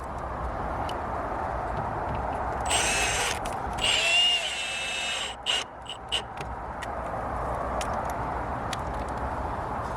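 A power drill whines twice as a screw is driven into a fence panel outdoors, two short buzzing runs over steady background noise with faint birds.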